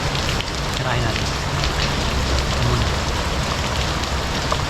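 Heavy rain pours steadily onto surfaces near a riverbank in former forest land, a dense, continuous hiss with no break across the moment.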